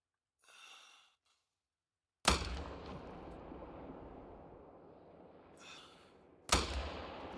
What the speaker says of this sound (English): We're going to get him with the Askiy Ridge.